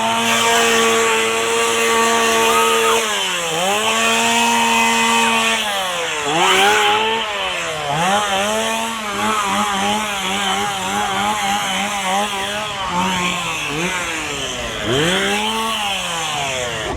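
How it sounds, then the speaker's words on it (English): Roaming chainsaw horde at Halloween Horror Nights: chainsaw engines rev and drop repeatedly, loud and close, with overlapping snarling pitch swoops and constant crowd din behind them. "We now have a roaming chainsaw horde that is back"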